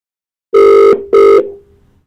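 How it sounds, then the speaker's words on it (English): A telephone rings during a radio or TV interview show, two loud, clear electronic trills separated by a short pause, the second fading out into a brief tail, close and alone with no talk. "Ringing."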